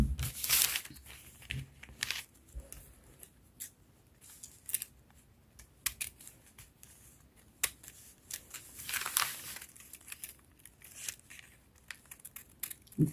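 Scissors cut through two stacked fabric circles for a bell sleeve with a rose effect, giving soft, irregular snips and rustling cloth close by, no talking.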